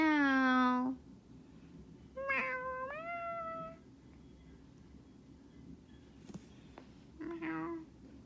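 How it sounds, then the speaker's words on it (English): A cat meows in the WWE 2K20 video game, giving several distinct drawn-out meows spaced apart with quiet gaps between them, heard clearly over a soft background hum. "Meow, meow."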